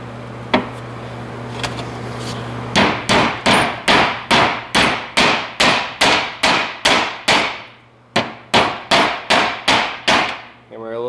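A hammer drives a U-joint cap into the front axle of a 1994–2001 Dodge Ram 1500 with about twenty sharp, loud metallic blows in quick, even succession, broken by one brief pause, over a faint background hum.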